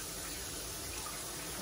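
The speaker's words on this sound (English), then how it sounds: "rub it down and then run it under the water" Tap water running over catfish in a kitchen sink, a steady soft rushing stream held without break, fairly faint and with no voices.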